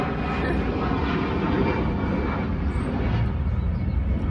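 An airplane flies overhead, a broad continuous roar that stays loud and steady throughout, heard outdoors in a garden in Nepal.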